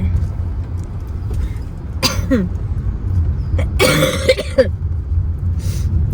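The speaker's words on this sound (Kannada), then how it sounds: "ಕೆಮ್ಮು" Two short, harsh, phlegmy coughs from a person with a chesty cough and a strained voice, a couple of seconds apart, loud and close, over a steady low background rumble with no talking.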